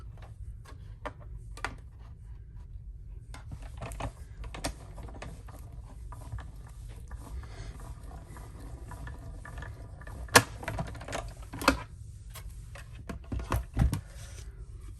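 A cardstock purse flap feeds through a hand-cranked die cutting machine, giving soft, steady mechanical ticking and grinding with a few sharper clicks and knocks near the end, quiet and close.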